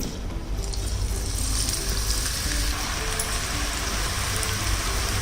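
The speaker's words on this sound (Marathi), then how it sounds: "आता तेल चांगलं तापलेलं आहे आता आपण भुजिया सोडूया" Aloo bhujia dough pressed into hot oil fries with a steady, dense crackling sizzle that fills the whole stretch, loud and close, with no talking.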